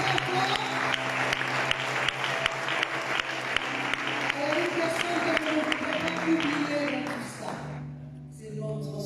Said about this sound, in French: Alors acclamez la pour vous-même très fort.